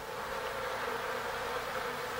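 A honeybee colony hums with a dense, continuous buzzing of many bees around the wax comb, steady and fairly quiet, with no voices.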